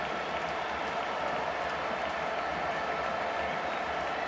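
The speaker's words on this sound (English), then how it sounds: "Imagine one or two Boca fans almost applauding." Applause from a football stadium crowd at Camp Nou during Barcelona against Boca Juniors in 2018, after a goal, as a steady, dense wash of clapping and crowd noise holds throughout.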